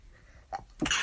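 A single close, sharp human sneeze bursts out after a brief intake of breath, loud and abrupt in a quiet room.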